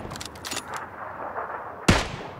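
A gunshot from the video game PUBG, one sharp loud report near the end, following a soft, noisy game ambience with faint clicks.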